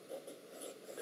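An inexpensive fountain pen nib scratching across paper in soft, continuous strokes, faint and close, with no voices.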